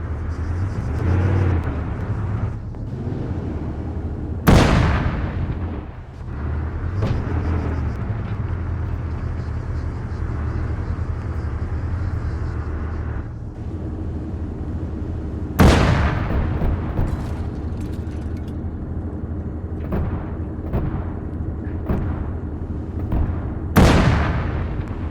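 Tank cannon in Arma 3 firing three sharp, loud booms spaced several seconds apart, each followed by a rumbling tail, over a constant low engine drone and scattered smaller impacts.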